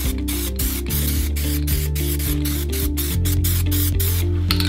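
Spray paint hisses onto an apron in loud, close bursts, each short blast separated by brief pauses, with no talking.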